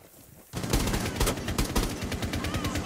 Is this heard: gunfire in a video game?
yes